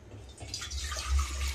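Water pours into a pot on a stove in a short, continuous splashing gush that builds slightly and stays close and steady.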